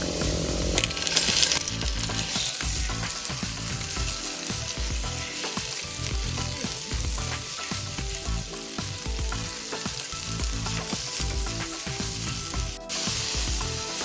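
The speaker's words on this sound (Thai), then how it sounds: "เราก็ใส่หมูที่เราหมักไว้ลงไปค่ะ" Marinated pork stir-frying with garlic in a hot pan, sizzling loudly and steadily throughout with continuous frying crackle and occasional scraping stir noises, no voices.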